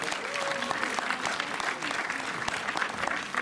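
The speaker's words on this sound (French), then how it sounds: "Et donc c'est vous qu'il faut applaudir." Cinema audience applauding at the opening of the Méliès theatre's 50th anniversary, a full, sustained wash of clapping with a few murmuring voices mixed in.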